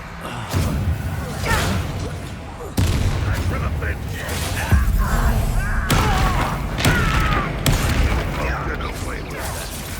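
Spell blasts from Bombarda in Hogwarts Legacy, a series of loud booming thuds and impacts at about 0.5, 2.7, 4.7 and 5.9 seconds over steady game sound and clatter.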